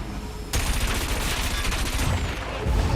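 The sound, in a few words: missile weapon firing in Wipeout 2048 video game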